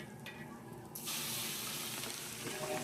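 Spices tempered in hot oil as a vaghar for a vegetable dish, with a sudden loud hiss bursting in about a second in and holding as a steady, bright sizzle close by.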